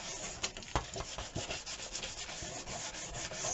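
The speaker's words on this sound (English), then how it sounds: "I'm going to take my sandpaper and I'm just going to scratch it up" Sandpaper rubbed back and forth over the glazed surface of a Dollar Tree tray, a close, steady rasping scratch with quicker strokes and a few sharper scrapes, no voices.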